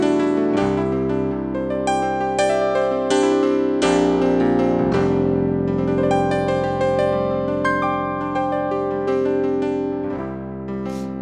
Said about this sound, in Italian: tentava realmente di riprodurre quello che era il suono di un pianoforte